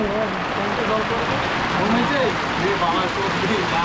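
Steady rain patters continuously during an outdoor family picnic by the water, where people are fishing in the rain, a dense even hiss with voices faintly audible underneath.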